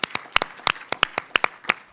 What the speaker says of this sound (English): Can I get a round of applause for our sponsors?